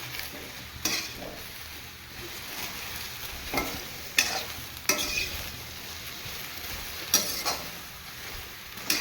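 Okra cooking in a pan for a ladies finger sambar: a soft, steady sizzle runs throughout, broken by scattered clicks and scrapes of a spatula stirring. It is quiet and close, with no talking.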